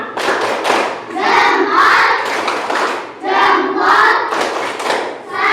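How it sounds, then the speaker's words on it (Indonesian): Schoolchildren in an Indonesian classroom chant and clap together in a thumb-clap cheer, a loud group burst in two rhythmic waves of voices and hand sounds. "Kita melakukan tepuk jempol dulu. Ayo, tepuk jempol."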